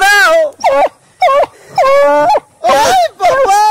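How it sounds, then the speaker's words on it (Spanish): A hunting hound in a cave gives loud, close, drawn-out wailing howls in about five separate bursts with short pauses between them. "oiga como ronca ese animal"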